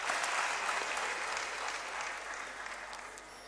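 Audience applause at a university convocation ceremony welcoming the state governor, a dense, sustained round of clapping from a large hall crowd that thins slightly toward the end.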